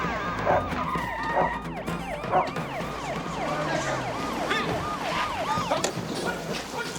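A police car siren wails in rapid, repeating up-and-down sweeps as the vehicle arrives, loud and continuous, with street noise underneath.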